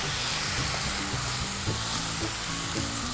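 Eggplant and vegetables stir-frying in sauce with salt and pepper, a steady close sizzle broken by soft scraping and stirring clatter.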